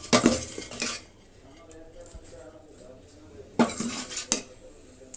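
A spoon mixes bread dough in a bowl for a soft tutti-frutti bakery loaf, giving two close bursts of scraping and clinking at the start and end with quieter rustling between, under a speaking voice.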